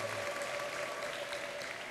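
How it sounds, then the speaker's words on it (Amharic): A church congregation in Addis Ababa claps together, a fairly quiet but continuous wash of applause with no clear voices over it. "እስቲ ለጌታ በደንብ አጨብጭቡ።"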